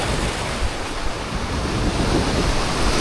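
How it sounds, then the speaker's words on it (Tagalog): Strong sea waves roll and crash during a fishing trip on a grey day, a loud, continuous roar of surf mixed with heavy wind buffeting the microphone, with no voices. "So malakas yung alon guys."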